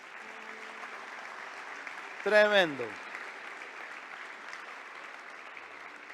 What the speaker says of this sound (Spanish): Dale un aplauso a la palabra de Dios.